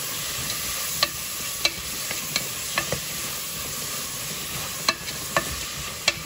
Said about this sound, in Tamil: இந்த ஆனியன் வந்து நல்லா வதங்கணும்